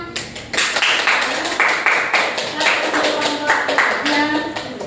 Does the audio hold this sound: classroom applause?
yes